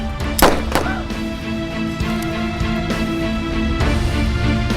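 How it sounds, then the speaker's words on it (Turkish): A single sharp gunshot cracks early on, followed by a lower thud or two against a constant mechanical hum. "Silah sesi miydi o? Ne taraftan geldi?"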